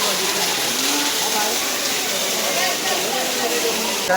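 A waterfall at Byculla Zoo in Mumbai pours in a steady, dense broadband rush, close and continuous, with a voice talking faintly beneath the noise.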